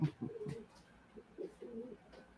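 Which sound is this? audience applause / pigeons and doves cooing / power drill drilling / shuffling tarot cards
pigeons and doves cooing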